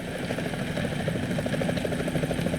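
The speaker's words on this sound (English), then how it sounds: "Is that a chopper I just heard?" Helicopter in the video game Metal Gear Solid 2, a steady rotor thrum with a rhythmic chopping pulse, holding at a constant level throughout without any voices.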